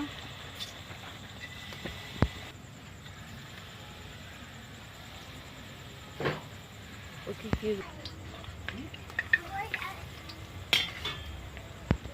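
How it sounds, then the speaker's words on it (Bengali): Palm fritters (taler bora) fry in oil in a kadai with a low, steady sizzle, punctuated by scattered clinks and scrapes of a utensil against the pan over about twelve seconds. "আমরা ঘিরিয়ে দিলাম তেলে আমি বড়াগুলো ভেজে নেব"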